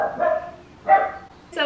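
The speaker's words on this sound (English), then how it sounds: "Excuse my dogs, they love to bark." Pet dogs bark in a home in a few short bursts, loud and close, with a person talking over and between the barks.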